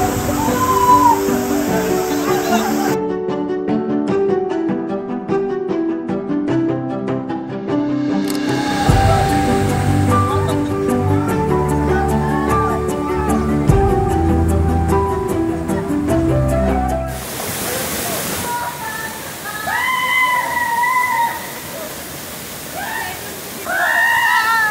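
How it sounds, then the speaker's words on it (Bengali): The Faskhawa hidden waterfall at Alipurduar roars continuously underneath music, and a voice talks over the water toward the end. "আমরা আছি একদম ঝর্ণার সামনে।"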